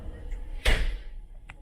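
A balcony door on a Carnival Celebration cruise ship cabin swings and thuds shut once, a short solid knock with a faint latch click after it, close by in a quiet room.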